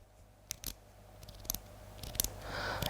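An Omega Seamaster's unidirectional 60-click dive bezel being turned gives a few soft, irregularly spaced clicks, faint and close, with no voices.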